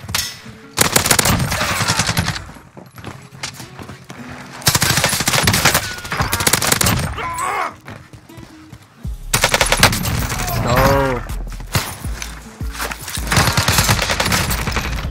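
QBZ-83 assault rifle fire in Warzone on Rebirth Island, heard as repeated loud automatic bursts separated by short pauses, with other game sounds mixed in and no talking.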